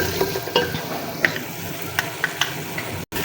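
Masala spices for daal mash frying in a pan while a spoon stirs them: a low sizzle with scattered sharp clicks and scrapes against the metal, near and fairly quiet, ending in a brief dropout, with no talking.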